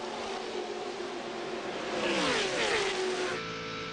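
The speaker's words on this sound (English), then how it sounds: "Now 2 cars begin to pull down and make their way on the inside of the racetrack." ARCA stock race cars on track heard from an onboard camera at a 1999 race: a loud continuous engine roar with a rising, sweeping pitch partway through as cars pull down to the inside, no talking.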